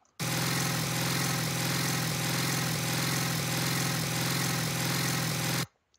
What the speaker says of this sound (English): So you can hear how that part I could probably use as a sound for my engine.